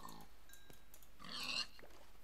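A Minecraft pig grunts in a few quiet, short snorts, with a brief brighter burst near the middle, set against faint game ambience and no speech.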